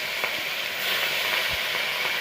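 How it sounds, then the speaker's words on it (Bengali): Carp pieces rubbed with salt and turmeric fry in a pan with a steady, loud, close sizzle that runs unbroken, with only faint clinks beneath it. "এখন মাছগুলি ভেজে নিচ্ছি।"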